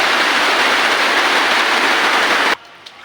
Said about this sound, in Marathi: पावसानं अचानक सुरुवात केली म्हणून मी थांबलो